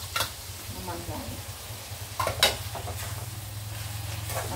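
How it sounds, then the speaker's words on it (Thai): Sun-dried pork stir-fried with oyster sauce and seasonings in a pan, with cabbage going in: steady close sizzling and scraping stirs, a couple of sharper clatters near the middle. "แล้วเราก็ใส่ผักกาดลงไปผัดก่อนนี่ค่ะ"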